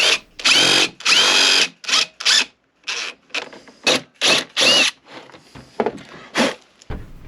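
A power drill whirs in repeated short bursts, loud and close, drilling holes in a Toyota Tacoma roof after headliner removal, with brief pauses and scraping between runs.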